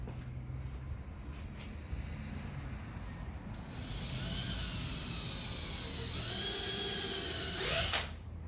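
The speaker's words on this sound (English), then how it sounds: "drill bit, and I'm gonna try to locate my stud" A power drill bores through sheetrock into a wall stud while garage shelves are built. A low motor hum rises into a loud, steady high whine that bites harder near the end, then stops abruptly.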